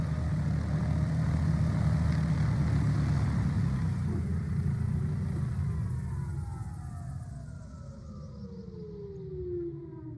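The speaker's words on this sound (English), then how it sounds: "this is now the hover flight with 8 electric motors" An electric aircraft with eight electric motors hovers at low RPM, giving a steady loud whirring drone whose pitch slowly glides downward and fades somewhat toward the end.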